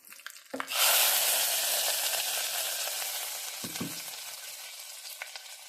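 A sudden loud sizzle bursts out as hot tempering with curry leaves hits cooked lentils for a North Karnataka-style rosy dock sambar, then slowly fades into a steady crackling hiss with a few soft clinks.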